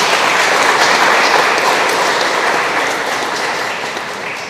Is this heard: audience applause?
yes